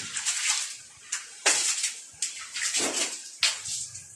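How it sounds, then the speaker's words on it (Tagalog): Water sprayed against the walls of a pig pen during disinfecting, heard as repeated bursts of hissing spray that start and stop in irregular pulses, fairly close and loud, with no talk. "iugas ko po siya sa mga dingding"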